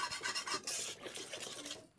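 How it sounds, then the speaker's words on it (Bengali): Two farm eggs frying and being stirred in a pan with chopped onion, giving a steady sizzling rasp with scraping strokes, close and fairly quiet, no voices. "দুইটা ডিম দেওয়ার পর দুইটা ডিম সুন্দর মতো ভাজা ভাজা করবো।"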